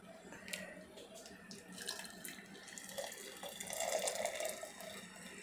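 Hot water from a kettle pours into glass jars of bottled pears, a steady close splashing trickle with brief gurgles as the stream fills each jar.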